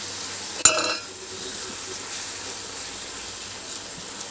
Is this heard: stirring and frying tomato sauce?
yes